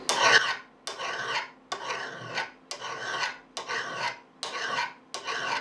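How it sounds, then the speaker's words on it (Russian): A metal file rasps across the surface of a hammer head in seven even, forceful strokes with brief gaps between them, close and loud with no voices. "Финишная обработка, если можно так выразиться, напильником."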